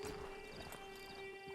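Horse hooves clip-clop in the video game Red Dead Redemption 2, a soft steady patter over a constant tonal hum and game ambience, with no talking.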